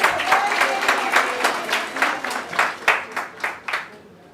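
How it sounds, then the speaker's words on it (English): A round of applause from an audience at a women's real estate event, welcoming a guest speaker; scattered claps rise to several louder bursts and fade toward the end, with faint voices underneath. "Please give her a round of applause"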